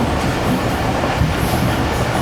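The Pak Business Express train in Pakistan rolls past a disused station near Malir, with a loud, continuous rumble of wheels and carriages heard from on board.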